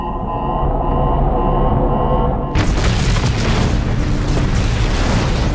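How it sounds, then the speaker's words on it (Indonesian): Laboratory module self-destructing in the sci-fi film Forsaken: after a tense tonal buildup, a sudden massive explosion erupts into a loud, sustained roaring blast of broadband debris noise. "modul laboratorium tersebut meledak hancur"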